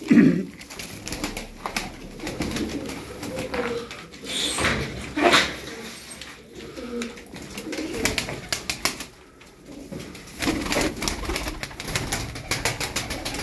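Tumbler pigeons of assorted colours, some crested, coo and shuffle in a loft, with uneven bursts of cooing, a few knocks and brief wing flaps throughout.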